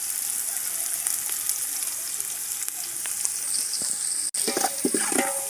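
Onions fry steadily in a pot for a fish stew in an African village, a close, continuous crackling sizzle with occasional stirring scrapes and clicks toward the end.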